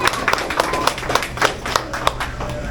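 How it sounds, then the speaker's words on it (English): Audience applause for ice cream scoopers during a factory tour, a close, fairly loud patter of clapping with several distinct sharp claps standing out over the crowd. "Can we give them a round of applause, please?"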